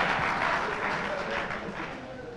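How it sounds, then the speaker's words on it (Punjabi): An audience at a Punjabi stage comedy drama breaks into applause, a dense, even wash of many hands clapping at once that holds steady and then fades slightly, with a voice faintly underneath. "ਤਾੜੀ ਮਾਰ ਦਿਓ ਅਸਲ ਵੱਜ ਗਈ ਆ"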